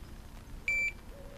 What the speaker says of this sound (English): There's a beep, as you heard it, no doubt. It's just a single beep, that's all it is.